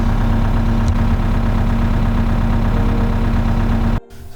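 A camper van's engine idles loudly and steadily up close, a constant low rumble that cuts off abruptly near the end, leaving quiet.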